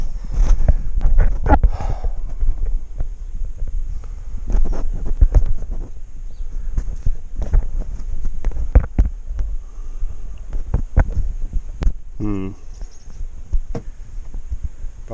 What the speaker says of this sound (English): That's my sound. Dry bearings. Alternator needs to come out.